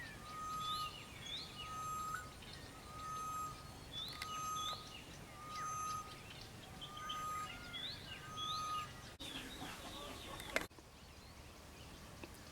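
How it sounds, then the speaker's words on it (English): A grey-headed bushshrike calls repeatedly from a tree amid a morning chorus of other birds, its regular notes fairly clear over soft background chirps, ending with a brief noisy disturbance. "This is the grey-headed bushrike calling over there."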